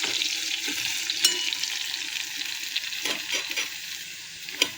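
Garlic sizzling in hot oil as a tadka for kaunria sag kanji, an Odisha leafy-greens dish, a steady close frying hiss broken by a few clicks and stirring taps.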